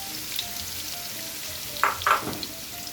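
Fresh chilies and sun-dried red chilies fry with garlic in hot oil for salmon stir-fry, a steady crackling sizzle with a pair of sharp louder bursts near the end, close and without voices.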